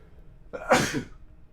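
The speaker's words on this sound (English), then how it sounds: "I'm gonna sneeze." A single sharp sneeze up close, a quick breathy intake bursting into a loud spray of noise, then fading quickly.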